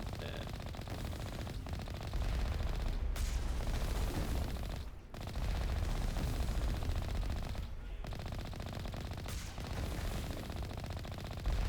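Sustained rapid gunfire from a Mass Effect firefight aimed at a gas ship, dense bursts rolling almost continuously with brief gaps, loud and close.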